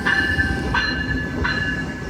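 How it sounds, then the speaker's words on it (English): A Via Rail Siemens Venture passenger train passes on the CN mainline at Coteau, Quebec, with a steady roar of wheels and a high squealing tone, marked by rhythmic rail-joint clicks, close and loud with no voices. "This is one of Via Rail's brand new Siemens Venture train sets."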